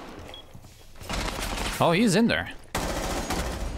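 Gunfire in the tactical shooter Rainbow Six Siege rattles through a round in progress, rapid shots and bursts mixed with game effects while a player talks over it.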